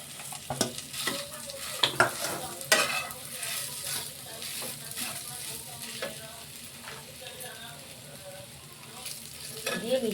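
Boiled potatoes being stirred into fried spices in a pan while making batata vada, giving steady scraping and stirring over a soft sizzle, with a few sharper clinks of the spoon against the pan.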